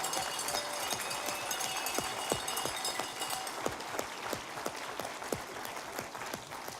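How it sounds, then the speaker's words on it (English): An audience applauds at a company's quarterly awards ceremony, a fairly faint, sustained patter of many hands clapping with a few sharper individual claps standing out. "let's give you one more round of applause"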